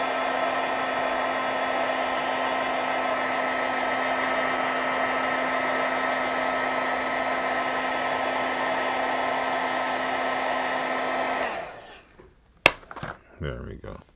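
A heat tool blows steadily to dry freshly re-inked stamp pad ink, a loud, even whirring roar that runs for most of the stretch, then cuts off, followed by a few light clatters of handling.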